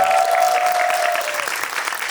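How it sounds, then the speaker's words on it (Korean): Audience applauding at a Korean film screening and guest talk in a cinema, steady dense clapping throughout, loud and close, with a faint tonal whine in the background. "박수 한번 부탁드립니다."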